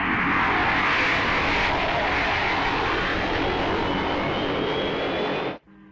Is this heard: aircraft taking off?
yes